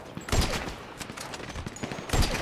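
Rapid bursts of gunfire from a GTA V heist shootout crackle in clusters at close range, with dense overlapping shots and a few heavier cracks standing out.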